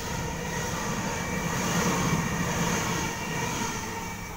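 Sydney Tangara electric train at Lewisham station, a steady rumbling and humming roll of a passing set with constant broadband noise, fairly near, no talk.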